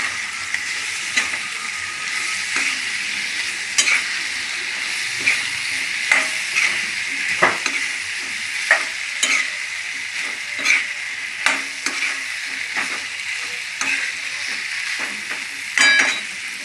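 Cooked cauliflower stirred into a curry in a pan, a spoon scraping and knocking in a slow irregular rhythm over a continuous bright sizzle and hiss, close and fairly loud, with no voices.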